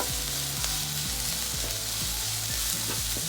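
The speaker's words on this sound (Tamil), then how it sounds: "கேரட், முட்டைகோஸ் எல்லாத்தையும் நல்லா வதக்கிக்கலாம்" Carrot and cabbage sautéing in a pan over high flame for egg fried rice, giving a loud, steady, close sizzle with occasional stirring clatter throughout.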